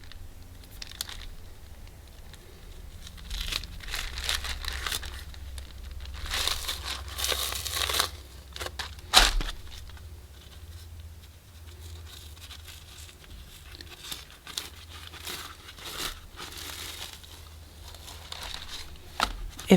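Thin egg roll wrapper peeled apart by hand, soft crinkling and tearing rustles in uneven bursts, close and fairly quiet, with brief louder crackles.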